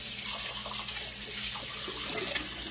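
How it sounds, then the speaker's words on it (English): Tap water runs steadily into a sink while hands are rinsed under it, a continuous close hiss and splash with no pauses or talking. "Rinse my hands off."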